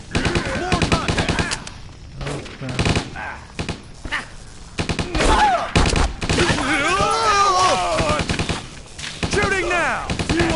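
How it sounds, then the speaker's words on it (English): Rapid bursts of video game gunfire from Stubbs the Zombie, loud repeated shots and volleys clustered through the scene, mixed with shouting voices and zombie groans. "Shooting now!"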